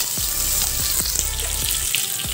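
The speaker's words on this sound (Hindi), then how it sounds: "अब इसमें चॉप थोड़ा सा ब्राउन होने तक फ्राई करें" Keema chops frying in hot oil in a pan, a steady close sizzle with a few soft clicks and stirring bumps, no talking.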